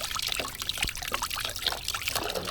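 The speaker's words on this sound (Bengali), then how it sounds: "নতুন আলু তো আলুতে খুব বালি ভালো করে ধুয়ে নিতে হবে" New potatoes washed in water, with pouring, trickling and splashing as the water runs over them, close and continuous for a couple of seconds.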